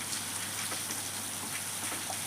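Heavy rain pours down in La Finca, Algorfa, Spain, a continuous even wash of hissing patter with scattered louder drops, steady and fairly soft throughout.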